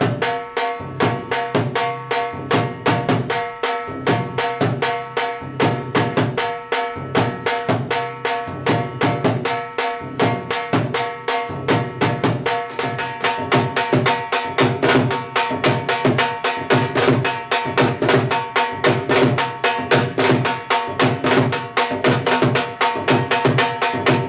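A traditional Punjabi devotional drum rhythm for the mother goddess, played steadily and unhurried with even, repeating strokes over a ringing sustained tone, loud and close throughout.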